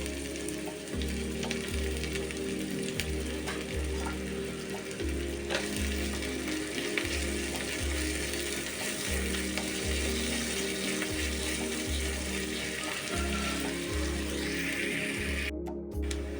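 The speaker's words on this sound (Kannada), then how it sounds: "ಸಪೂರಕ್ಕೆ ಹೆಚ್ಚಿದಂತಹ ಒಂದು ಈರುಳ್ಳಿ, ಇದನ್ನು ಚೆನ್ನಾಗಿ ಫ್ರೈ ಮಾಡಿಕೊಳ್ಳಬೇಕು" Thinly sliced onion fries in hot oil in a pan, giving a steady, close sizzle and crackle that runs unbroken throughout with no talking.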